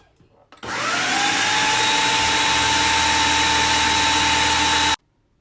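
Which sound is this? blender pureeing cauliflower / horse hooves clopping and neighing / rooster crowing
blender pureeing cauliflower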